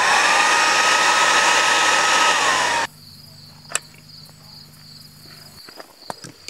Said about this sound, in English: You can use the hairdryer if you have to.